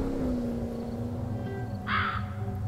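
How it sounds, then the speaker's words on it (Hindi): A crow in the video game Undawn gives a single short caw near the end, moderately close, over a low steady game ambience and music. "कौवा उड़ गया यहाँ पर भाई"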